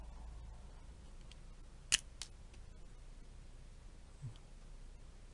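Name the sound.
cutting with scissors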